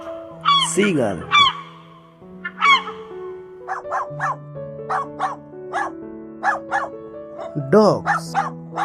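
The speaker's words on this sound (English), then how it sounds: "dogs" Several dogs bark in a string of short, clipped barks over a sustained musical background, with a few higher honking calls at the start and again near the end.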